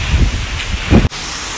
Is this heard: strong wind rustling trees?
yes